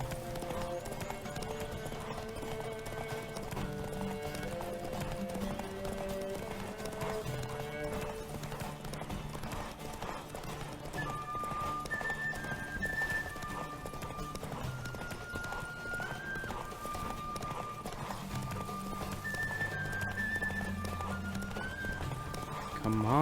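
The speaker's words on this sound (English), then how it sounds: "Come on, stupid horse, stamina." Horse hooves galloping in The Witcher 3 video game, a steady clip-clop rhythm running under continuous orchestral game music for the whole stretch.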